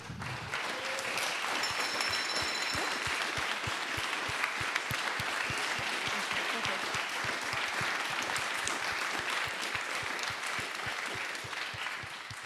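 Steady, sustained applause from an audience at the close of a talk and discussion event, a dense wash of many hands clapping at even loudness throughout.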